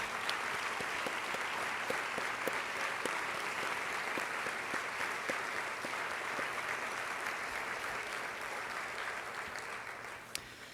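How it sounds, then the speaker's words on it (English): An audience at a school district State of the Schools address gives sustained applause for the Board of Education, a dense, even clatter of many hands that carries on for the whole stretch and tapers slightly near the end. "You deserve our gratitude, our respect, and our applause."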